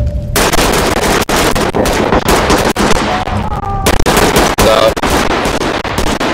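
Gunfire in the tactical shooter Ready or Not inside a neon nightclub, with loud, close, sustained automatic bursts broken by brief gaps and a few sharp single shots.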